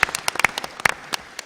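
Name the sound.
audience applause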